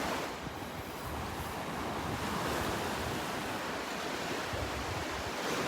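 Ocean waves wash steadily onto the beach at Delnor-Wiggins, a continuous broad surf roar with wind buffeting the microphone throughout and no speech.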